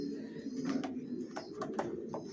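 Janssen racing pigeons coo in a loft, a low steady murmur of several birds overlapping, with a few brief sharper calls standing out above the continuous cooing at close range.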